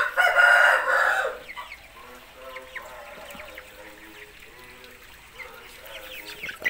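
Southeast Asian bamboo chickens, one rooster with five hens, give a loud close crow at the start, then scattered softer clucks and chatter continue throughout.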